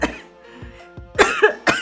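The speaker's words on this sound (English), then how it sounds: "Laughing is causing me to cough." Coughing brought on by laughter: a few soft breathy coughs, then three sharp, close bursts in quick succession, with no talk.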